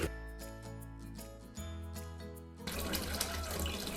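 A bathroom hot water tap with no aerator or flow restrictor runs flat out, with a steady close rush of water that thickens into a louder, broader splashing roar partway through.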